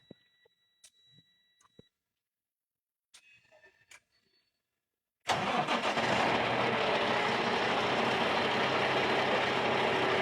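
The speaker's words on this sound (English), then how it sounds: "As soon as you start the engine, release the airbag" Semi truck's diesel engine starting during a coupling and uncoupling lesson: after a few quiet clicks and knocks, the engine cranks and catches abruptly, then settles into a loud, steady close-up idle rumble, with no talk.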